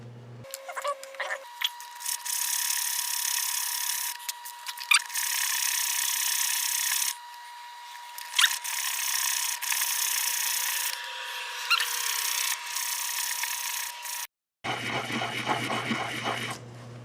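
Sanding a rosewood pen blank spinning on a lathe with 240 grit paper, a steady close rasping hiss over a constant motor hum that runs for most of the time, with brief dips and a short break near the end.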